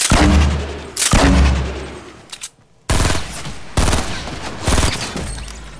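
Gunfire in a video game: loud, sharp bursts of repeated shots, with a brief near-silent gap midway before the firing resumes in further bursts.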